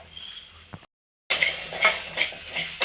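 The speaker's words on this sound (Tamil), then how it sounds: "உளுந்து சேர்த்து அதை ஃப்ரை பண்ணிக்கலாம்." Urad dal frying in oil for homemade idli podi, a dense crackling sizzle with spoon scrapes, interrupted by a brief stretch of silence before the frying noise returns loudly.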